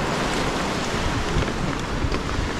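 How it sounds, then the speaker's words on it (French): A mountain bike splashes through a deep stream crossing, a loud, continuous rush of churning water and wind noise close to the microphone, with no voices. "Jamais évident les passages de ruisseau avec la profondeur."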